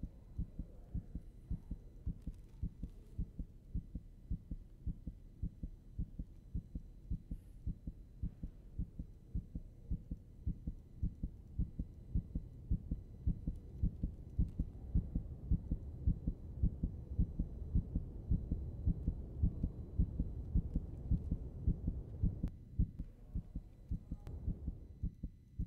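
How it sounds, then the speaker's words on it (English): A steady heartbeat sound effect from the video game Snoot Game thumps in a regular double-beat rhythm, low and muffled, swelling slightly louder toward the end with almost no talk over it. "Damn, that heartbeat though."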